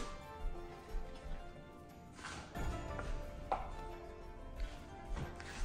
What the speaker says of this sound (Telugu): పన్నీర్ కూడా చాలా జాగ్రత్తగా మంచిగా కట్ చేయాలన్నమాట